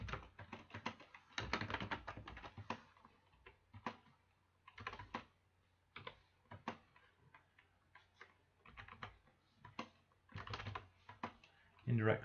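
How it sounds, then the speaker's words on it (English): Close, clicky typing on a computer keyboard comes in uneven bursts of rapid keystrokes separated by brief pauses, fairly faint and recorded near the keys. "So we'll type in his information."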